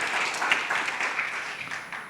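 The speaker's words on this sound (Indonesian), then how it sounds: "Yang mau berikan tepuk tangan meriah buat Tuhan kita." A church congregation applauds during a service, dense sustained clapping from many people at an even level, fairly loud and unbroken for a couple of seconds.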